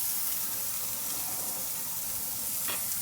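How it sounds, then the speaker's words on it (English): Onions frying in fat in a pan for a southern German Geschnetzeltes ragout, giving a steady close sizzle that holds evenly throughout with no talk. "Now in that same pan, add your onions with another little bit of fat."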